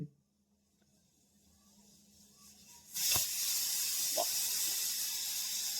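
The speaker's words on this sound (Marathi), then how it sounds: "त्या दोन शिट्ट्या झाल्यात कुकरला" A kitchen pressure cooker vents steam with a sudden loud hiss that starts partway through and keeps going steadily to the end, after a quiet opening.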